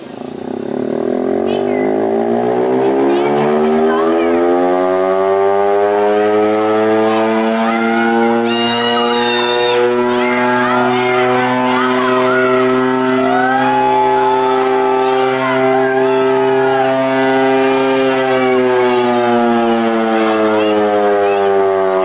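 A steady, loud mechanical siren wails continuously, running at about 5 volts instead of its full 72, its layered harmonic tone holding and slowly shifting pitch, with faint higher whistling tones drifting over it.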